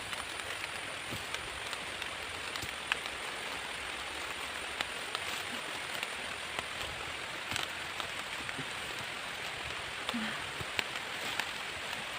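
Steady rain falls on a rural homestead plot, a faint, even patter of drops hissing continuously with occasional louder single drips.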